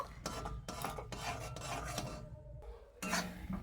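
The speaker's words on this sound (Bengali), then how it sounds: "তো খুব ভালো করে নাড়াচাড়া করে একটি ডোর মতো করে নেব" Thickened milk and ghee being stirred into a stiff dough in a pan over low-to-medium heat, a steady close rasping and scraping of the spatula with short pauses between strokes.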